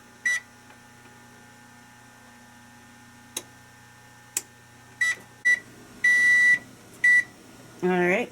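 A microwave or oven timer in a home kitchen beeps in several short, evenly pitched chirps, followed by a couple of longer tones, close and clear over a faint steady hum.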